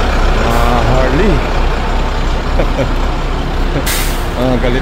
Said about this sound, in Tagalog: Ganda pa ng tunog ng mga truck ni Manong Chavit